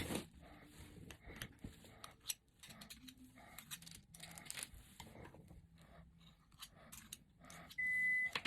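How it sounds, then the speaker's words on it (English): A kitchen timer goes off with a steady electronic beep near the end, after a stretch of quiet clinks and handling in a home kitchen where whoopie pies are being baked. "There's my timer."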